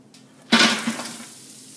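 A sudden loud sizzle erupts as scallions hit a hot pot, then settles into a steady crackling fry that slowly fades.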